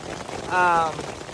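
Rain drums steadily on a surface around a tuk tuk stuck at high altitude in Bolivia, a close, continuous patter with a short voiced hum rising over it midway.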